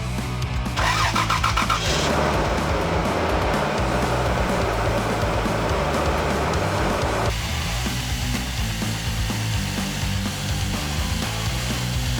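A truck engine runs steadily close by, a low continuous rumble with a brighter roar in the first several seconds that settles to a smoother idle, no talking.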